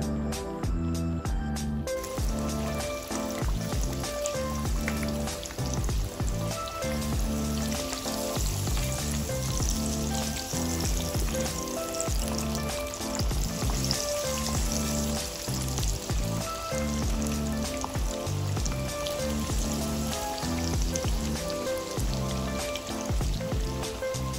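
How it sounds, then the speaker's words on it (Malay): Continuous loud sizzling and crackling of chicken frying in hot oil, steady throughout, with music playing underneath. "kita boleh masukkan ayam satu persatu"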